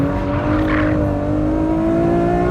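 Ferrari F12 V12 engine drifting in fourth gear on part throttle, a loud, steady, sustained engine drone that holds a constant pitch close up, with no talking.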